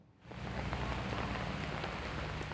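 Steady rain falls on a cold morning outside an abortion clinic near St. Louis, Missouri, a dense, even hiss of drops on surfaces that swells in after a brief quiet start and continues unbroken, with no voices.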